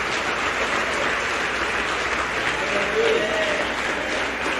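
A church congregation applauds steadily and loudly at a Brazilian community celebration, a dense continuous wash of clapping with no pauses.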